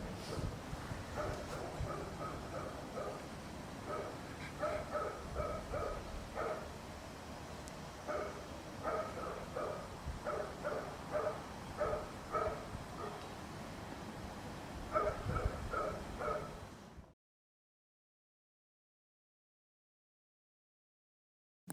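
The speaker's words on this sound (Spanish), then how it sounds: "algunos perros animaban el día con sus ladridos" Several dogs bark in the distance in repeated bursts over a windy outdoor background, then everything falls silent.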